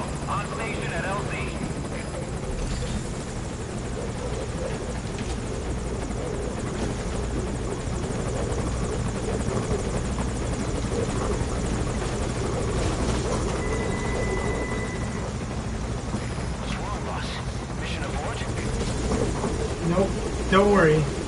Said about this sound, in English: I'm surprised they don't see that fucking helicopter